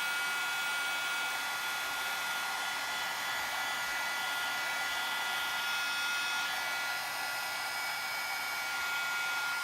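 A heat tool melts embossing powder on a stencil card, blowing a steady, loud, hissing whir without pause for the whole stretch.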